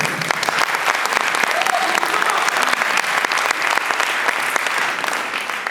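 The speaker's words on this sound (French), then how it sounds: "ça peut s'applaudir quand même" Audience applause at a hip-hop event, a dense, steady wash of many hands clapping that stays loud and even throughout with no pause.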